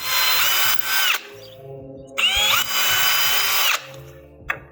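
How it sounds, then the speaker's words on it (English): A power drill whirs in two bursts, a short one then a longer one, drilling into pre-drilled holes in wood, its pitch rising and falling as it bites in, with quiet knocks between. "So now I can drill right in the holes"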